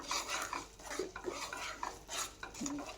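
A spoon stirs salted masala in a pan, making quiet, uneven scraping and soft clinks of metal on metal, with no voices.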